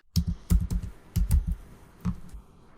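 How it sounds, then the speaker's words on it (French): Keys clatter in quick bursts of typing on a computer keyboard, close up and fairly quiet, with short pauses between strokes. "J'appuie sur Entrée au clavier et je tape le deuxième remède."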